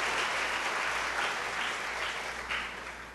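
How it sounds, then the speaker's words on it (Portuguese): Congregation clapping at a church's two-year anniversary gathering, a soft, even patter of many hands that fades slightly toward the end, fairly distant and without voices. "uma salva de palmas aí ao Senhor Jesus, pelo fato que vocês completaram isso"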